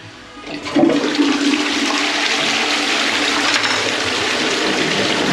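A 9-litre toilet cistern flushes with a sudden rush of water that settles into a steady, loud gushing as the bowl empties and refills.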